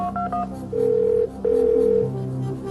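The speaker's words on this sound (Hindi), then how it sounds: "फोन लगाइए" A telephone call is placed during the Phone a Friend lifeline on the quiz show Kaun Banega Crorepati: a few quick dialing beeps, then long steady ringback tones, loud and clear with no talking over them.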